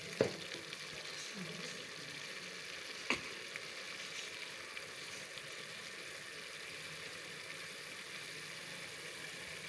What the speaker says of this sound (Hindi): तो घी डाल के इसको अच्छी तरह भूनेंगे मसाले को